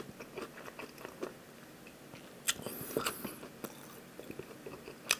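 Someone biting into and chewing crunchy, spicy-sweet Korean fried chicken, close and quiet: a run of small crisp crunches with a few sharper cracks, no talking over it.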